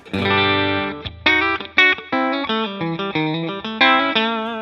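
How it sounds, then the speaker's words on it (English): Clean Telecaster bridge-pickup electric guitar picking short phrases with a faint, quick analog slapback echo trailing each note, close and bright against a quiet background. "Analog slapback, barely in there, just kind of detaches the reverb a little bit."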